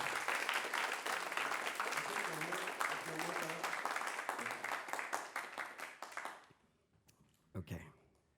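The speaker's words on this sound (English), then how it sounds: "please, a round of applause for Eskil Steenberg" Applause from a conference audience welcoming a speaker to the stage, a dense steady wash of clapping for about six seconds that thins out, followed by a brief quiet and a few sounds of the speaker stepping up.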